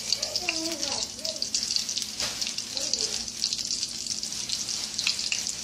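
Fish fries in butter in a pot on a stove top, a steady, close crackling sizzle throughout, with a person talking briefly over it.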